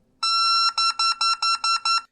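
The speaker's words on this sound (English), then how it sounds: "it's a regulation size softball, and it beeps" An electronic beeping from a regulation-size beep baseball softball: one long tone followed by six quick, evenly spaced beeps, loud and close.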